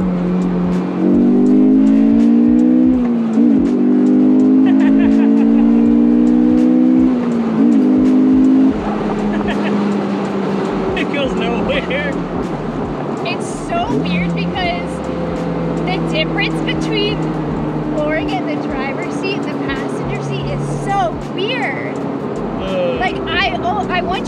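A simple Japanese-market car drives along, its engine note rising and shifting in pitch through the gears, with a steady road and engine drone underneath while people talk throughout inside the cabin.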